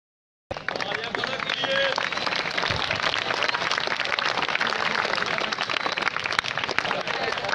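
An audience at a school prize ceremony during an Eid Milad un Nabi gathering at a government Islamia high school claps steadily. The dense, sustained applause fills the room after a brief silent start, with a voice speaking over it.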